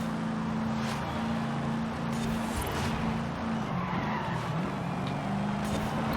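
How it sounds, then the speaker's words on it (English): A 1973 AMC Gremlin X with a low-revving V8 and race exhaust in Forza Horizon 5 holds a loud, constant engine drone under a roar of tires that skid and squeal. "It's a very low revving V8, apparently. This is with race exhaust,"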